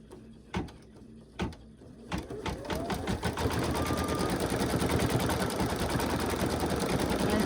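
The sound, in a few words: embroidery machine running after needle broke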